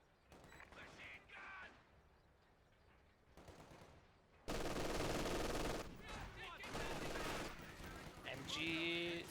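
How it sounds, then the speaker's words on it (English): Machine gun fire rattles in bursts during a Company of Heroes 2 match, joined by loud battle noise and other game effects. "The MGs though are doing some nice work, both of veterans 1 and 2."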